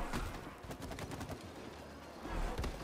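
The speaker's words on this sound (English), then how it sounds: "I need you to start shooting the sap on her." Gunfire in It Takes Two as a player shoots sap at a target: dense, continuous bursts of shots and game effects run throughout, with no talk over them.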